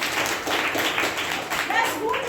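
A church congregation claps together during a Sunday service, a dense, steady patter of many hands close by that lasts the whole moment, with voices speaking over it.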